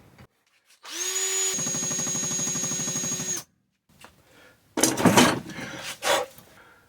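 A power drill boring out a stuck bicycle shifter cable head, with a steady high whine for about two and a half seconds, then a pause and clattering knocks of metal parts.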